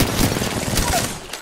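Gunfire in the Apex Legends video game, a dense burst of rapid shots over about a second and a half, loud and close, with some speech mixed in.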